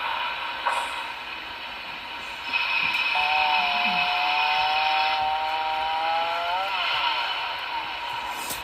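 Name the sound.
lumber mill sound effect from Paragon 4 model locomotive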